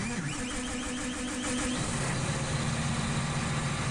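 A John Deere tractor engine in Farming Simulator 15 idles at a steady mid-pitched hum, with a slight change in tone about halfway through, alone and fairly close.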